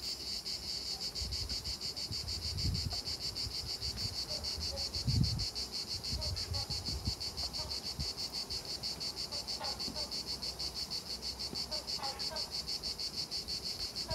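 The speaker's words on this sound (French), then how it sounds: "on commence déjà à avoir quelques belles abeilles noires" Steady high drone of black honeybees buzzing continuously close by, with faint low bumps and rustles underneath.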